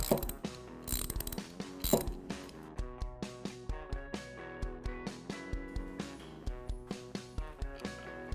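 Vice grip locking jaw pliers handled close up, giving a series of sharp metallic clicks and ratcheting snaps in an uneven rhythm, loud at first and then lighter and evenly spaced.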